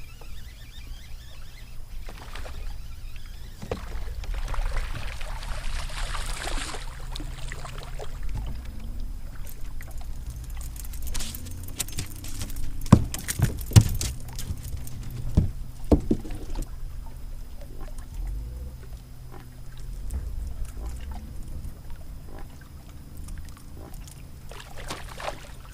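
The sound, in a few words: bass splashing at the water surface by the boat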